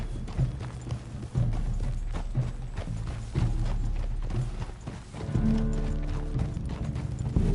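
Horse hooves clip-clopping at a steady walking rhythm in Red Dead Redemption 2, close and moderately loud, with faint creaking tack and mechanical rattles alongside and no talking.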